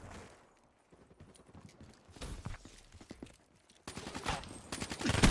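Gunfire in Black Ops 3, fired without aiming down the scope: scattered shots and bursts of moderate loudness that grow denser and louder toward the end.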